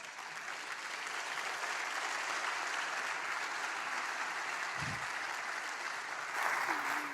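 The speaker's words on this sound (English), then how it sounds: "Another round of applause." An audience at a TEDx event applauds, steady even clapping throughout, with a brief low thump partway and a slight swell near the end.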